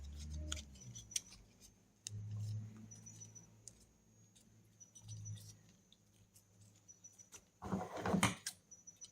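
Scissors snip through a paper tab for a junk journal, with faint, sparse clicks and light rustling at close range, then a denser burst of cutting and paper handling near the end; no one speaks.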